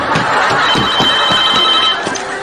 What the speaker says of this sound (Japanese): 電話です。